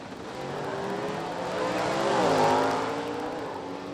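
Classic drag racing cars, a blue 1969 Camaro and a red Corvette, roaring down the strip with a loud, sustained engine drone that swells to a peak near the middle and then eases slightly, with no talking.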